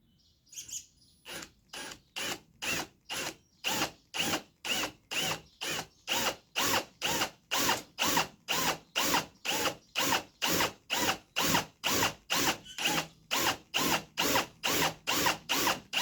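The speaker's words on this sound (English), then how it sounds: "Drill it down a little bit deeper." A power drill bores into wood for a woodworking craft, pulsing in a steady, even rhythm of repeated whirring bursts, close and fairly loud, alone without talk.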